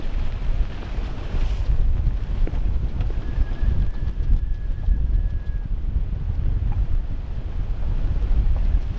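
Strong, steady wind gusting to 30 knots roars and buffets the microphone on a sailboat off southern Labrador, with a constant low rumble throughout and no voices.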